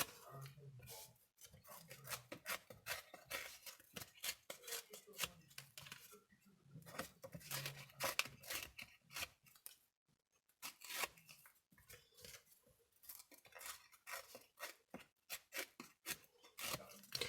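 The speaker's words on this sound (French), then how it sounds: "je vais déchirer un peu les bords et ancrer" Paper edges are torn by hand for an envelope craft, in repeated short ripping and rubbing strokes, close and quiet, with a brief pause partway through.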